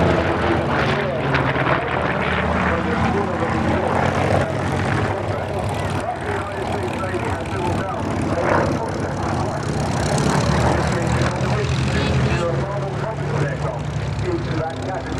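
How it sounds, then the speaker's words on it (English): A Douglas A-1 Skyraider propeller aircraft flies past with a loud, continuous, droning engine roar that holds steady throughout, and a voice talks over it. "The chosen aircraft was this aircraft, the Douglas 81 Sky Raider."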